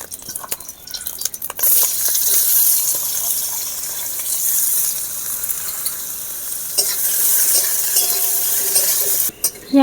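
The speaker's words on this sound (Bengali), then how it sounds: "এবারে আমি পেঁয়াজ ভেজে নেব।" Onions frying in a pan while chaowmin is made at home, a steady close sizzle with stirring scrapes throughout, briefly quieter at the start and end.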